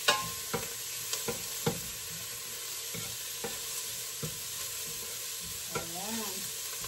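Minced garlic and onion sizzle in a pan, a soft steady fry broken by a few scraping stirs of a spatula, close and fairly quiet with no talking.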